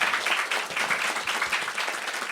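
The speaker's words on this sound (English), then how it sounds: "So let's please give a round of applause to Cheryl." A gathered audience applauds a guest at an evening event, with steady, moderately loud clapping from many hands and a few sharper individual claps standing out.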